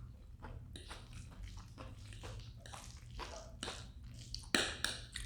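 Someone bites and chews crunchy raw zucchini noodles in a creamy mushroom alfredo, giving several sharp, close crunches spaced irregularly over quiet background hum, with one louder snap near the end.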